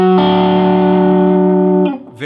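A distorted electric guitar plays a blues rock lick at full speed, moving from the one chord to the four chord, which blurs into one loud, sustained held note before cutting off.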